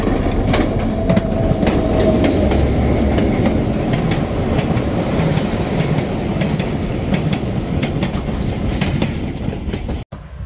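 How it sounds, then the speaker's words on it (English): Diesel locomotive passing on rails at the IRM Diesel Days event, a steady loud rumble with clickety-clack wheel noise and a brief squeal, sustained throughout before cutting off abruptly at the end. "after I filmed this locomotive going past"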